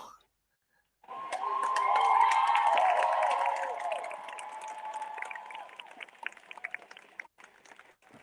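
A protest crowd breaks into a swell of clapping and cheering after a brief silence, peaking early and then thinning to scattered claps, with voices talking over it.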